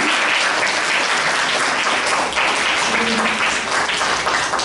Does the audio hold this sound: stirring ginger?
no